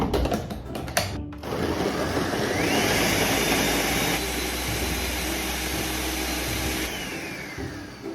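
Electric chopper grinding vegetables covered in water for an anti-inflammatory drink: a loud, steady motor whine that starts abruptly after a few clicks, holds for several seconds, shifts pitch midway, then winds down.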